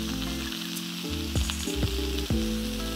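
Lamb chops sizzle and fry in a pan with a steady bright crackle, joined by a few knocks and scrapes of a utensil and a tonal hum in the background.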